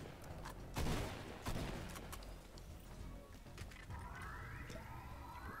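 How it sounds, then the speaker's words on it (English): Drum gun firing in Fortnite, bursts of rapid shots with a couple of louder hits among other game sounds, all quiet and somewhat distant, no clear talk. "this freaking drum gun's amazing."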